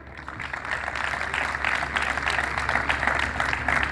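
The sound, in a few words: audience applause for guests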